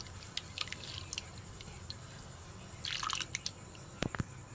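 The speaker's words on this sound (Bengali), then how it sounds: "কাঁচা ডালই ভালো করে ধুয়ে নেব" Raw mung dal being washed in water in a kitchen, with faint sloshing, drips and small squishy handling sounds, soft and close against a low background hiss.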